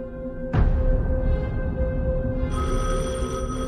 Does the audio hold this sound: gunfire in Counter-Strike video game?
no